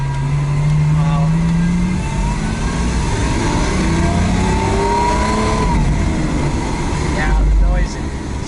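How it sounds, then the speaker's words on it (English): A Lamborghini's 750-horsepower naturally aspirated V12 revs from inside the cabin, its engine note climbing in pitch in repeated sweeps over a loud, steady road roar. "750 horsepower of naturally aspirated V12."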